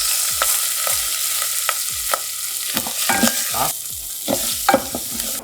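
A spoon stirs rice in hot olive oil in a pan while it fries for a beetroot risotto, giving loud, steady sizzling broken by repeated rhythmic scraping strokes at close range.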